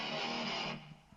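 Electric guitar riff on an SG tuned to drop C, recorded through a Shure 57 microphone: a loud, dense distorted strum that holds for most of a second, then cuts off into a brief decaying tail.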